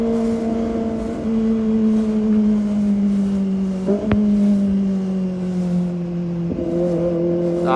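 A Kawasaki ZX25R motorcycle engine drones loudly and steadily at high revs, pitch sagging slightly, with one sharp exhaust pop midway and no talking.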